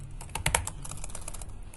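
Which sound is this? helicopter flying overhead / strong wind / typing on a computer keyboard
typing on a computer keyboard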